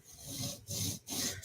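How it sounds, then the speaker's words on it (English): A Yojimbo knife edge is ground at the heel on a 150 grit CBN stone in a TSProf Kadet sharpener, giving repeated close rasping strokes, four back-and-forth passes with brief pauses between them. "We're cutting a heel right now, which means I'm grinding out the material at the end of the heel."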